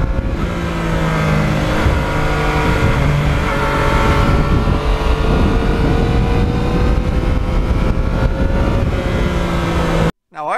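A Yamaha MT-09 three-cylinder motorcycle engine runs steadily and loudly up close, a dense continuous drone with slight pitch shifts, cutting off abruptly near the end.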